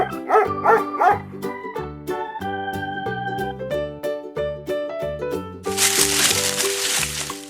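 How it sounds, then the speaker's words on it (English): A dog barks in several short bow-wow yips amid a bouncy musical backing, the barks close and clear, with a burst of crinkly noise near the end. "Great! It's a dog."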